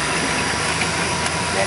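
Car engine running at a steady, loud drone with a hint of rising revs while a learner practises clutch and gas during a driving lesson.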